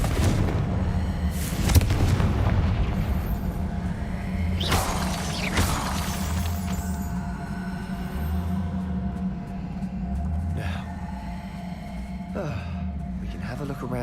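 Spell blasts go off in a Harry Potter video game, with several sharp bangs and crackling bursts over a steady low hum. Characters talk through the clip.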